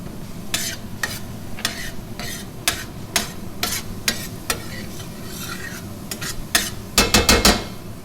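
Shallots and garlic tumble into a hot pan for beef Wellington, setting off a rising sizzle and several sharp scrapes and clinks of a utensil against the pan, ending in a dense burst of stirring.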